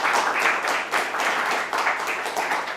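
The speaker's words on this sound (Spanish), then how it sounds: "vamos a darle un fuerte aplauso a Francisco." An audience applauds Francisco after his seminar talk on design with AI: steady, moderately loud clapping from a room of people that lasts the whole moment.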